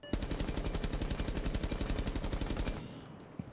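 An automatic gun fitted with a compensator fires a rapid, evenly spaced burst of loud shots in a shooting video game, stopping short and followed by a couple of faint clicks.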